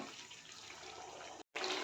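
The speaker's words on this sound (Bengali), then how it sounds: "এবারে আমি গরম জল দেব।" Hot water pours from a vessel into a pot of browned, cooked meat, a steady close rush of liquid that cuts off abruptly before resuming briefly.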